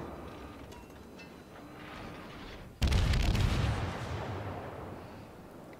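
Naval guns on a warship in World of Warships fire a salvo partway through, a sudden heavy boom that rolls into a long rumbling decay over the game's low background drone.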